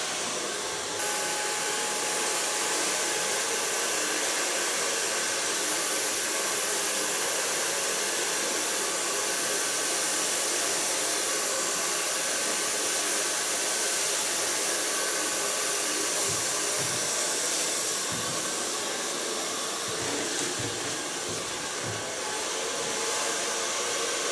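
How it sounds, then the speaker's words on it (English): A hair dryer blow-dries hair with a constant loud whooshing roar, close and steady for the whole stretch, with no voices. "I'm still going to blow dry her hair."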